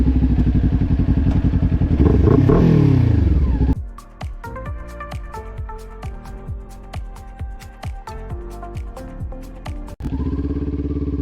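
Kawasaki Ninja 400 motorcycle revving and shifting up close, a loud engine climb, then a rapid staccato of popping exhaust bursts as it decelerates, before the engine drone returns, with no talk.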